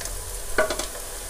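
Onions, garlic, ginger and green chili fry in a pan with a steady low sizzle throughout and a brief stir or clatter in the middle, close and fairly quiet.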